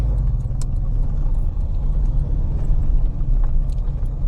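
A car's steady low engine and road rumble fills the cabin during a first drive, with faint clicks and no one talking.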